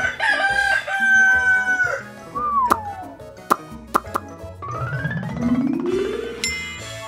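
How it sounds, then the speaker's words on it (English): A rooster crows loudly once, a long drawn-out cock-a-doodle-doo, then whimsical pops, slide whistles and a rising jingle follow. "Rooster."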